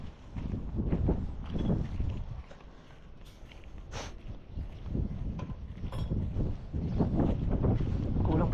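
Wind blows steadily across an open outdoor site, rumbling and buffeting the microphone in uneven surges, with faint voices and scattered knocks in the background.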